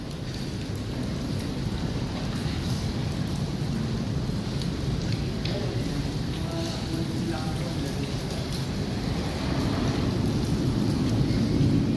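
Rain falls outdoors beneath Quezon Bridge by the Pasig River, a dense, steady hiss that stays loud and unbroken throughout, swelling slightly near the end.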